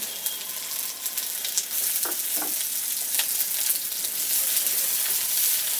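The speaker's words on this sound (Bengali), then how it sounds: "আর দিচ্ছি কাঁচা পেঁয়াজ। পেঁয়াজটাকে ভেজে নেব।" Raw onion with dried red chillies fries in hot oil, a loud, continuous close-up sizzle with occasional stirring scrapes and no talking.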